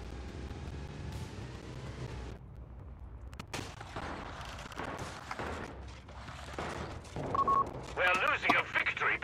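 Machine-gun fire in the Company of Heroes 3 battle game comes in scattered rapid bursts and sharp cracks amid distant explosions and battlefield noise, with voices talking throughout.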